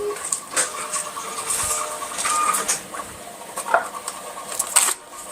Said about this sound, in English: I have a label printer, as you'll see right now. So I'll hit print.